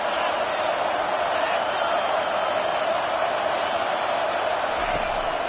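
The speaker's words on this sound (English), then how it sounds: "This crowd trying to make life miserable for this offense." A college football stadium crowd in a video game gives off a constant, loud roar while a play-by-play commentator talks over it.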